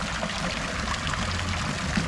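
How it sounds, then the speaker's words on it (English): Garden display pond with fountains and waterfalls running, a continuous broadband rush of splashing and trickling water, steady and close with no pauses. "Got all the fountains and the waterfalls working."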